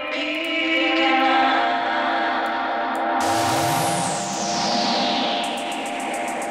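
Vocals from a Danish indie track run through a Roland RE-201 Space Echo tape delay and an EMT 140 plate reverb, giving sustained, repeating echoes. A sweeping wash rises midway and is followed by rhythmic echoed taps, loud with no talking.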